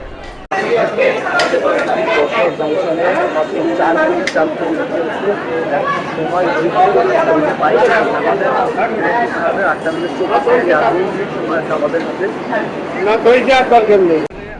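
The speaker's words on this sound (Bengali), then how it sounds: "আজ এত ভিড় যা ভাষায় প্রকাশ করা যায় না খুব খুব খুবই ভিড় হাজার হাজার লোক" Huge crowd of thousands chattering at Jessore Junction railway station on a busy Friday, a loud continuous wash of overlapping voices close by with occasional louder shouts.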